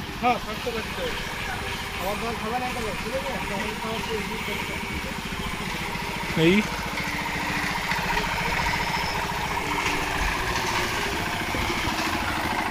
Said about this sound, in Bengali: আমাদের মশলা মাখানো মিক্সচার মেশিন শুরু হয়ে গেছে চালানো, মশলা মাখা শুরু হয়ে গেছে।